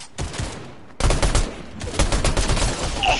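Rapid bursts of automatic gunfire in the video game Fortnite, loud and close, starting after a brief pause and continuing as dense overlapping shots.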